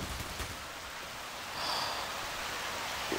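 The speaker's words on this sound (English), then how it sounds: "This rain is obnoxious, dude." Steady, faint rain falls in a Minecraft map modelled on Left 4 Dead 2, a soft continuous hiss with no talk over it.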